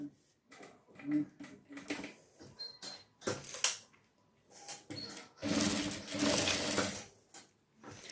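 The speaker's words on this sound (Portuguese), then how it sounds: "Vou colocar o vivo aqui, é, deixando ele assim bem no meio do pique ali, para depois vir com a outra parte, o restante aqui também. E começar a costurar." A sewing machine stitches piping onto a children's bag in short bursts of rapid mechanical whirring, broken by pauses and softer handling sounds, with a quiet voice speaking in places.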